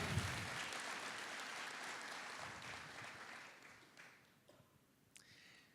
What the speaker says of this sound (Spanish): Si le va a dar el aplauso a Jesús, déselo fuerte, porque el aplauso es para Él.